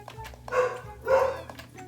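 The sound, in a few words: dogs barking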